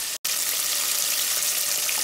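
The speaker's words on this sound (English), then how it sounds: "here's what it's gonna look like once it starts frying up" Chicken frying in hot oil, a steady loud hissing sizzle filling the whole stretch after a brief cut near the start, with no talking.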